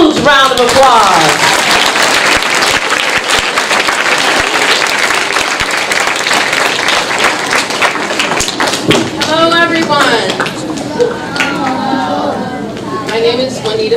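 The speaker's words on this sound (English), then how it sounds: "So if you can join me in giving them a huge round of applause." A crowd applauds visiting law firm guests at a Martin Luther King Jr. remembrance event, loud clapping with footsteps and thumps, then fading into chatter and voices as the applause dies down.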